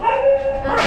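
A single drawn-out Afghan hound vocalization, a whiny yelp sliding slightly in pitch, close and fairly loud.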